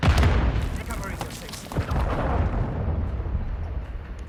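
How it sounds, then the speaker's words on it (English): A cruise missile strike in Call of Duty MW2 makes a loud, deep, rumbling explosion that rolls on for several seconds with broad booming noise and scattered crackle, and some voice sits faintly in the mix. "Cruise missile approaching target"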